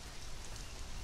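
Steady, dense rain hisses in the video game Conan Exiles, an even wash of close patter with no pauses and no voices over it.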